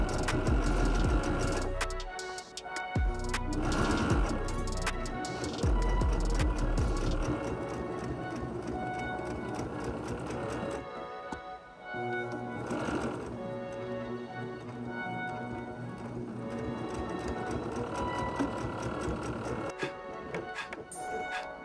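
Sewing machine top stitching leather seams, a rapid mechanical ticking clatter running in stretches with short pauses, fairly close and steady, under soft background music.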